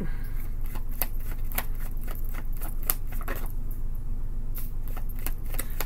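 A worn tarot deck is shuffled by hand, giving a run of crisp card riffles and flicks up close, irregular in rhythm, over a steady low background hum.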